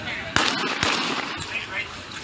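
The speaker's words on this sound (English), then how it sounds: "So you hear an initial 2 shots" Recorded gunshots, two sharp close reports in quick succession followed by a fainter third crack, each a broadband burst over a steady noisy background.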